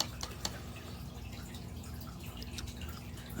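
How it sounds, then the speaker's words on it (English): Whiteworm culture and food are tipped into water, giving soft drips and splashes with a light trickle over a low steady hum, fairly quiet and close with no voice. "So we're just gonna dump this in the water."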